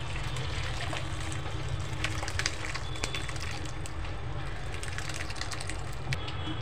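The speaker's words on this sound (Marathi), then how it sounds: "मी हे चाळणीमध्ये पाणी घालत आहे" Water pours into a kitchen sieve lined with cotton cloth, a steady soft rushing and trickling that continues evenly at close range with a few faint clinks.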